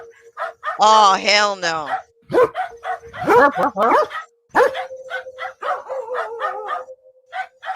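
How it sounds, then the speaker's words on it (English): Two dogs bark on a rural home camera in Costa Rica, with repeated sharp barks and yips, loud and close, as a person talks over them. "Two dogs are barking at what some people believe is a creature"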